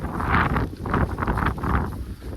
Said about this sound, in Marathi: वारा बघा किती सुटले